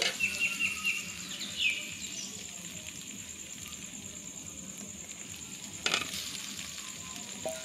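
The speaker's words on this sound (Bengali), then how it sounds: "মশলার সঙ্গে আমি কিন্তু ডালটা এখন সুন্দর করে কষিয়ে নেব" Soft, steady sizzle of lentils frying with spices in a pan, with a few faint scraping stirs and a brief clatter near the end.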